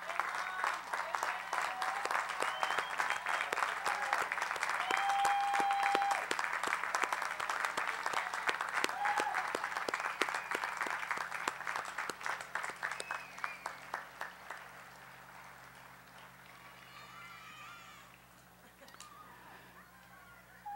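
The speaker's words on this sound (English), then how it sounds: "ask them to stand for a very well-deserved round of applause" A graduation audience at a college commencement applauds, many hands clapping in a long sustained burst that gradually thins and fades toward the end, with faint background voices and a brief tone near the start.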